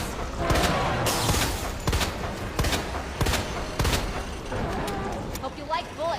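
Gunfire in a Resident Evil 2 cutscene, sharp shots cracking out in an irregular series with rumbling background noise between them and a brief voice near the end.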